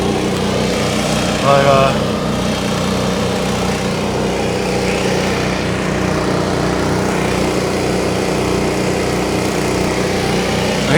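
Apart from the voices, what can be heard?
air compressor running outside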